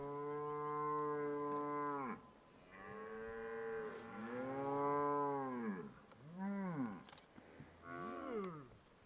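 Cattle on a Namibian farm or roadside moo repeatedly, a long drawn-out low call followed by several shorter rising and falling moos, loud and close with no talking.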